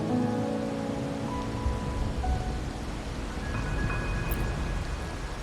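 Video game rain falling as a steady hiss of drops with a low rumble underneath, accompanied by faint sustained musical tones and no voices.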